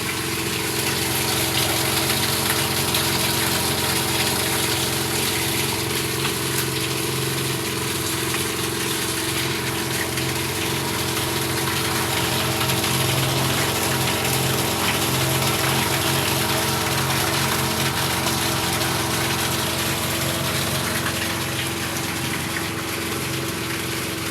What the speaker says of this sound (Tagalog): Malakas ang buga ng tubig natin.